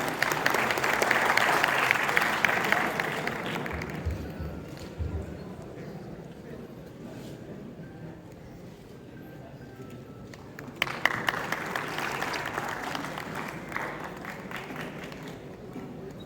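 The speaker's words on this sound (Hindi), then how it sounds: "एक बार लगातार तालियां हो जाए।" Audience applause at a panel discussion event, a sustained burst of clapping that fades to a quieter murmur, then swells again into a second round of clapping.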